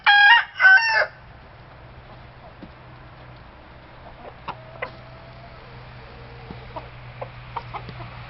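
Sam, a main rooster among molting chickens in January, gives one loud, close crow lasting about a second, followed by quiet scattered clucks and soft farmyard sounds.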